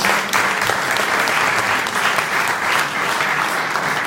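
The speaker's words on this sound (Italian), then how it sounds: "il mio amico Alberto Crescenti, che è qui e che voglio dedicare un applauso." An audience at an Italian book presentation claps in sustained, steady applause for a friend being honored, a full room of hands sounding loud and continuous with no talking.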